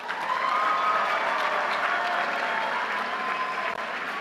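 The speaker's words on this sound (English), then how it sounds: "Please join me in a round of applause for all of our graduates." Audience at a medical school hooding and recognition ceremony applauding graduates, a dense sustained wash of many hands clapping, loud and steady throughout.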